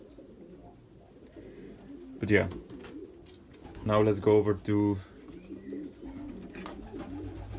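Belgian racing pigeons cooing nearby in a loft, soft repeated throaty coos in a few bursts, while someone talks over and between them.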